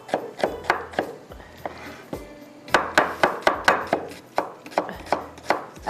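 A knife chops food on a cutting board in a home kitchen, close and loud, in quick bursts of sharp thuds with a brief pause and then another run of steady strokes.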